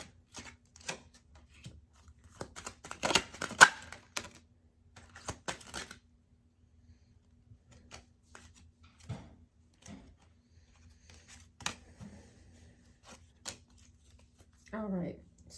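Kipper cards shuffled and drawn, heard as quiet rustles, flicks and light taps in an irregular cluster early on, then sparse single snaps and a short voiced sound at the end, close and soft.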